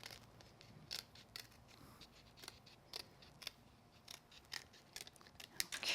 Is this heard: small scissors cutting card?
yes